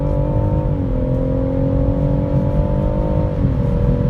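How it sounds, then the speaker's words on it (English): A BMW M140i Shadow Edition hatchback accelerates hard in sport mode, its engine loud and close with a steady rising drone and a brief dip as it shifts gear partway through. "this is where you just go into sports mode and you just plant your foot and off you go"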